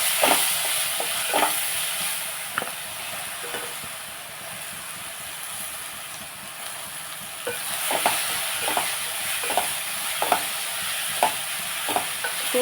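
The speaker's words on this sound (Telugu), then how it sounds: "ఇప్పుడు మనం బీరకాయ తురుము కూడా వేసేస్తున్నాం" Grated ridge gourd sizzles softly in a pan for a beerakaya fry. A spoon scrapes and taps through it in intermittent strokes, heard close up with no talking.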